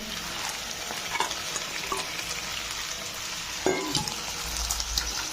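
Paneer cubes fry in a sauce in a pan, giving a close, steady sizzle broken by occasional scrapes and knocks from a stirring spoon.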